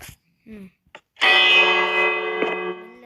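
After a quiet pause with a few soft blips, a bright electronic bell chime rings once and sustains, fading slowly.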